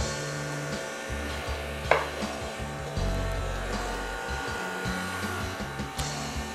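Dry ingredients being mixed into pineapple upside-down cake batter, a steady rubbing, whirring churn with a sharp knock near two seconds and a thicker rumble after three seconds, with no talk.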